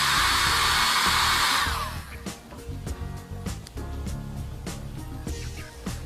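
A heat tool blows a steady, loud hiss onto the adhesive side of a toenail wrap for under two seconds, then cuts off, leaving quieter handling noises and light clatter.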